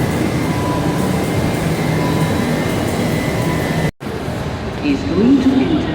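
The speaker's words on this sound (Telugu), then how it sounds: "ఇదేనండి ఢిల్లీ మెట్రో." A Delhi Metro train rumbles and hums steadily at a station, loud and close, with a brief cutout midway and a rising mechanical whine near the end; faint background voices mingle with the rail noise.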